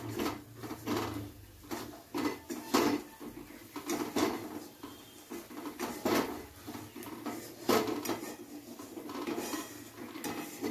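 A spoon stirs spices for chicken kosha in a kadai over a low flame, making rhythmic metallic scraping and clinking strokes, close and fairly steady, over a soft background hiss.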